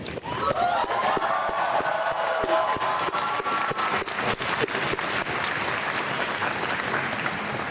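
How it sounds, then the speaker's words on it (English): Audience applause for faculty at a university chemistry and biochemistry commencement ceremony: a large crowd claps steadily and loudly for several seconds with sharp individual claps on top. "Let's give a round of applause to our faculty who are here today."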